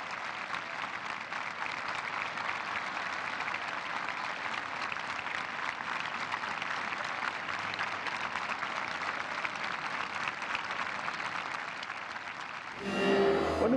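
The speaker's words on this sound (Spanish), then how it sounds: "En este evento se realizó un minuto de aplausos en memoria de las personas que también fallecieron por los sismos de septiembre" A large crowd holds steady, dense applause for a full stretch in memory of those killed in the September earthquakes in Mexico, an even unbroken roar that shifts character near the end.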